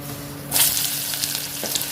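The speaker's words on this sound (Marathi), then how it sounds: "आता आपण ह्याच तेलामध्ये कांदा घालणार आहोत" Onion dropped into hot oil for potato biryani, breaking into a loud burst of sizzling that settles into a steady close frying hiss.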